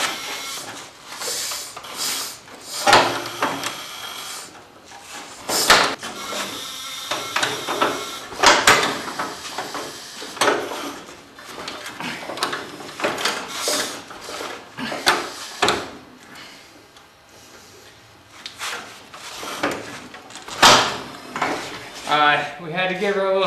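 A 1917 Ford Model T engine is cranked by hand, producing repeated loud mechanical clanks and rattling bursts at irregular intervals, close up, with people talking between them.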